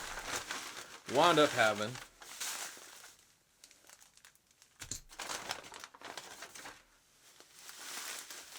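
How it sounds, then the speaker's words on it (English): A plastic inner bag of 2.5 lb paydirt is ripped open by hand, giving a sharp crinkling tear followed by softer rustling, with a person talking briefly. "Rip that baby open."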